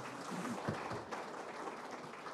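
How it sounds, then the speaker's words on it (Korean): An audience at a Seongbuk district symposium on village democracy applauds, dense and even clapping filling a short stretch with no voices over it. "예, 큰 박수 부탁드리겠습니다"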